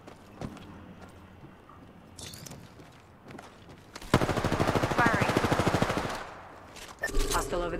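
Burst of rapid gunfire in a battle royale shooter, aimed at the player: a dense volley of shots rattling loudly for about two seconds after quieter footsteps and scattered distant pops, with a few sharp reports trailing afterward.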